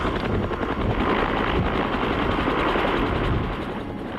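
A helicopter strains under the weight of a whale hanging from a cable during an offshore airlift. Its rotor chop and engine roar stay loud and steady throughout, easing slightly near the end, with no voices.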